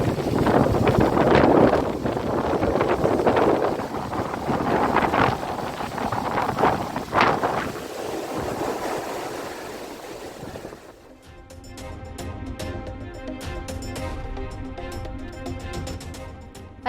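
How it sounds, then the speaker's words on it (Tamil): Rough, choppy sea at the Pamban coast, buffeted by strong wind, with loud gusty wind noise and crashing surf for most of the stretch, easing into calmer rushing water toward the end. "ராமநாதபுரம் மாவட்டம் பாம்பனில் சீற்றத்துடன் காணப்படும் கடல்."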